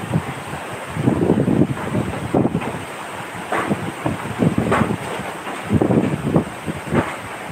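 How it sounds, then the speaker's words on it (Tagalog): Large typhoon waves surge and crash during Typhoon Odette while strong wind buffets the microphone, the surf arriving in loud repeated swells with no talk. "Yung mga alon din, malalaki na rin."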